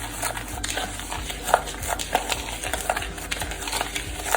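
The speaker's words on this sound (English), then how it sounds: "I'm just gonna stir this." A spoon stirs a gritty sugar scrub mixture in a bowl, giving a steady scraping, granular rustle with irregular soft clicks throughout, close and moderately quiet, with no talk.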